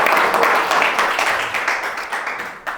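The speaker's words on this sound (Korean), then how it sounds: "박수 한번 쳐주세요." Audience applause during a lecture for a Korean ESG MBA course, steady dense clapping from a seated crowd filling the short stretch and easing slightly toward the end.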